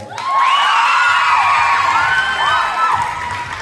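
Crowd at a gay beauty pageant in Capalonga, Camarines Norte erupts in loud, sustained cheering and shrill whoops, with rising yells layered over one another throughout, no clear speech.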